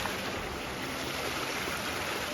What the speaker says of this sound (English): A little river and small little waterfall.